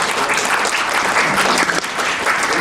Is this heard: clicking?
no